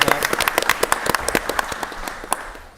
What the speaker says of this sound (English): An applause for Rachel, who's really done a really great job of doing that.